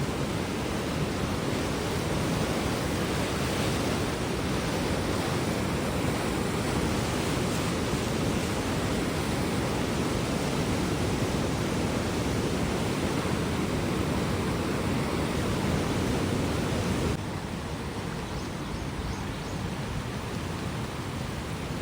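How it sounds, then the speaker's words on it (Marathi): Loud, continuous rushing water of the flooded Sindphana river in India roars without pause, a dense steady torrent that eases slightly near the end. "त्या विहिरीच्या वरून पाणी वाहत आहे अतिशय दुथडी भरून नदी वाहते"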